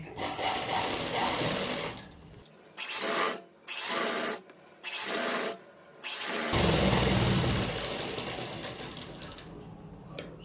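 A sewing machine runs in bursts while attaching a kurti sleeve with a double stitch. Short motor runs alternate with brief pauses, then a longer steady stretch follows, close and clear with no talking.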